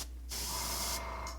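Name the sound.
spray paint on a miniature model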